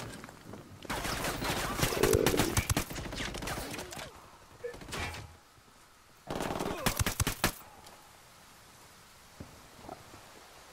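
Gunfire in the SOCOM Ghost Unit video game: two loud bursts of rapid shots, the first running several seconds and the second shorter after a pause, with scattered softer thumps and faint sounds between them.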